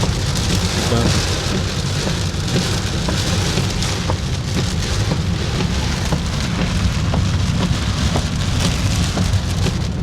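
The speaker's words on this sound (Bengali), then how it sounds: "বৃষ্টির কারণে এটা যে হাইওয়ে কিছুই বোঝা যাচ্ছে না।" Heavy rain pounds a car on the Cumilla to Dhaka highway, a loud unbroken roar of drops on the body and glass over low engine and road rumble, steady and close throughout, with no speech.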